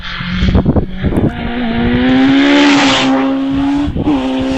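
A racing car engine at a British Championship hillclimb at Harewood screams past at high revs, a steady sustained whine rising slightly, with sharper bursts at the start and a brief dip near the end.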